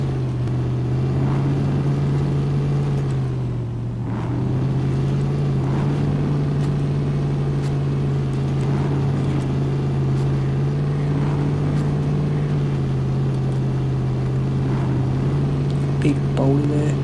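A truck engine in the video game SnowRunner drones loudly and continuously as it climbs a rocky hill, with the pitch dipping briefly then holding steady throughout.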